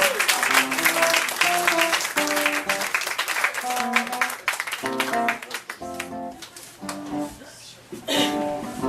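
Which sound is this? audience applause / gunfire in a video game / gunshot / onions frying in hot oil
audience applause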